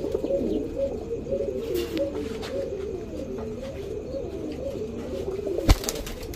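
Black Chila pigeon cooing in a continuous low, rolling burble, near and moderately loud, with a sharp knock or flap near the end.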